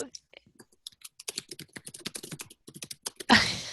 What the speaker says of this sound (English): I hear someone's typing.